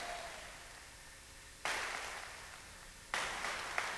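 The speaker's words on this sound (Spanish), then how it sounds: "Un aplauso para el Señor." A church congregation bursts into sustained applause, a wash of clapping that swells twice and keeps going without talk.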